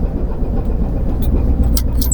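A boat's engine runs steadily at anchor, a continuous low rumble filling the background with a few faint higher clicks on top, holding level throughout with no clear stop.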